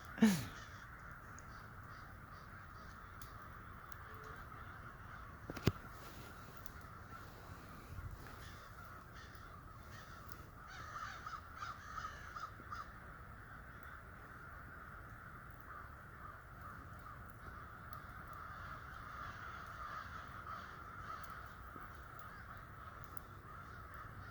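An American crow caws from a tree outdoors amid a squirrel dispute, its harsh calls moderately near and repeated over steady ambient background noise, with a sharper knock or snap near the start.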